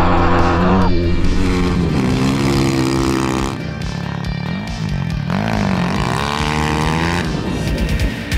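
A BSE Z7 300cc motorcycle is ridden at speed, its engine note rising and falling smoothly through the gears. The steady, close whine carries no spoken words.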